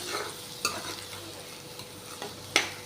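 Garlic and onions roasting in a small amount of oil in a pan, a soft, low sizzle broken by a few sharp scrapes of stirring, close and with no speech.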